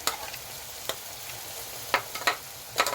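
Green chilies frying with garlic and onion in a pan, a soft steady sizzle punctuated by a few sharp scraping stirs, fairly quiet and with no talk.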